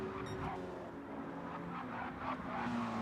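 Lamborghini race car engine roaring in a racing video game, a steady droning whine with shifting pitch, moderately close and unbroken, with tire noise faintly underneath.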